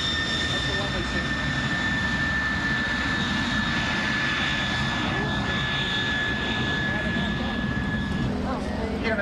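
The loud, steady roar of a MiG-17 jet at a 1996 air show, with a sustained whine, fills the scene while a voice speaks over it.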